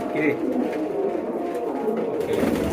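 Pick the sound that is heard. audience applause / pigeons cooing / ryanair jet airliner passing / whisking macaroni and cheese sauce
pigeons cooing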